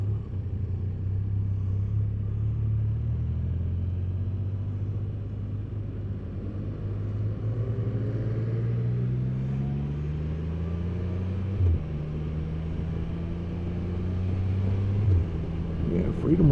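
A Can-Am Spyder three-wheeler rumbles nearby, its engine note rising and falling through several revs in a busy parking lot. The deep roar runs continuously, with a voice faintly underneath.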